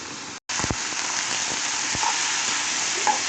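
Shallots and chillies sizzle steadily in a hot pan, with a brief gap at the start, then a bright continuous crackle and a few soft clinks of stirring.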